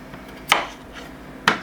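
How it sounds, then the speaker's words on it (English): A knife cuts food into smaller chunks for boiling, two crisp chops about a second apart against a cutting board, close and isolated with no voices. "Now we're just going to cut them into smaller chunks"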